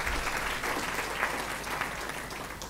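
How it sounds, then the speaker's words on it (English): Warm round of applause for a professor from a lecture audience, continuous crowd clapping at steady strength throughout, with no speech over it. "Another warm round of applause for Professor Mohale."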